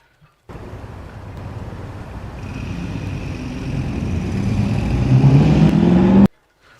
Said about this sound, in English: Oh, noisy out there on the road.